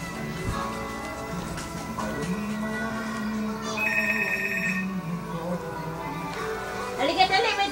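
A telephone rings in a busy home amid children's chatter and adult voices, its bright repeated ring rising briefly above the ongoing talk.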